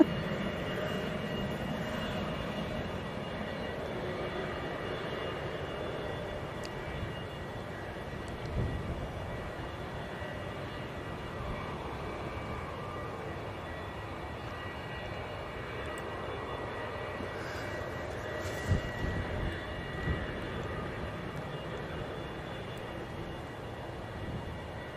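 Embraer E2 jet at Manchester airport, a steady broadband engine roar sustained throughout at moderate distance, with no talking.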